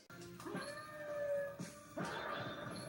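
A dog-like yelp from an enemy being stepped on in Castlevania: Symphony of the Night, a few short cries over game music, moderately loud.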